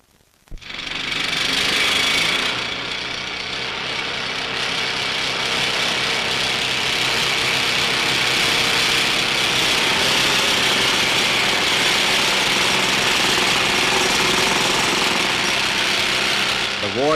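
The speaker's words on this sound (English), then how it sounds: "workers enter the fight by attacking the rock with pneumatic drills" Pneumatic rock drills hammer into rock during tunnel excavation, a loud, continuous mechanical chatter that runs steadily without pause for the whole stretch.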